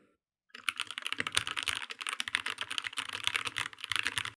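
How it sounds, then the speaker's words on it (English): Rapid, steady typing on a computer keyboard, close and crisp, with dense clicking keystrokes running for about four seconds after a brief silence. "I can already hear some of you typing in the comment section"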